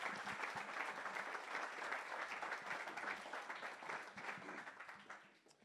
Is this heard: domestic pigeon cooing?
no